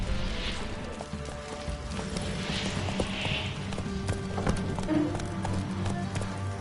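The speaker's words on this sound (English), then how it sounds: "Whoa there, Roach." Horse hooves galloping in a PS4 video game, a steady, quick clip-clop rhythm running throughout with game ambience and faint voices underneath.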